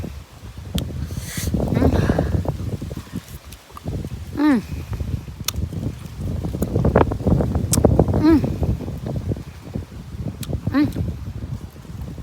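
Strong wind gusts through a cherry orchard with ripe fruit on the trees, producing a rough, buffeting roar close to the microphone that continues under a person talking throughout.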